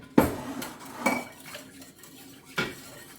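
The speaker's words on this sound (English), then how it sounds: "Stir." A spoon stirring a vegan coquito mixture knocks and clinks against the bowl in three distinct strikes with softer scraping between, close and fairly quiet, no talking.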